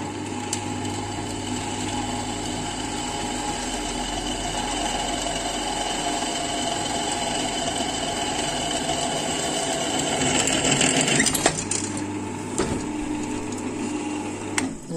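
A drill bit is ground on a homemade sharpening jig, a steady whirring motor hum with a bright grinding rasp that swells, then the motor cuts off abruptly and briefly restarts in short bursts.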